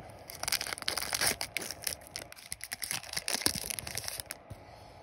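A Yu-Gi-Oh Darkwing Blast booster pack is torn open by hand, a close, loud run of ripping and crinkling foil bursts that slows in the last second, with no talking.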